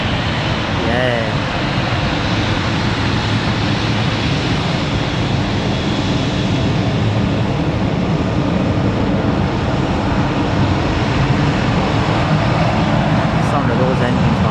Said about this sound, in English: Sound of those engines, man.